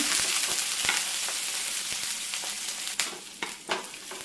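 Onion, dried red chilli and curry leaves fry in oil over mustard seeds with a continuous bright sizzle, broken by scattered scraping clicks of stirring that grow sharper toward the end.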